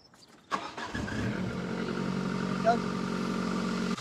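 Ford Focus ST170 engine cranking and catching, then settling into a steady idle with a possible exhaust manifold leak; a sharp start followed by continuous low rumble, close up, with people talking nearby.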